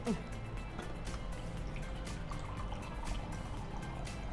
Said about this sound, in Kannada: ಅದರಲ್ಲಿ ಸ್ವಲ್ಪ ನಾನು ನೀರು ಹಾಕಿ